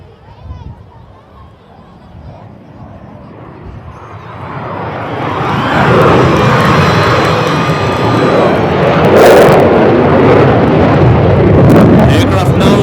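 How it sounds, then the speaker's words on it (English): A twin-engine Sukhoi 30 jet at an air show swells from a distant hum into a loud, sustained engine roar that holds steady to the end, with announcer-style talk early on. "of the tremendous amount of engine power he receives from these 2 engines that are mounted on the Sukhoi 30, Wing Commander Rakra is able to maintain"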